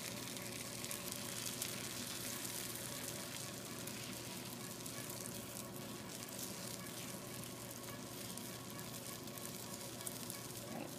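A steady, quiet, continuous sizzle of an omelet cooking in a frying pan, unbroken hissing with no talk over it.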